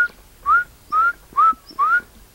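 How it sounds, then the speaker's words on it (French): Redstarts nesting on a farm give a repetitive whistled call, four short rising notes evenly spaced about half a second apart, clear and fairly close over quiet background. "on a des rouges-queues qui ont niché dans les trous des troglodytes d'ailleurs"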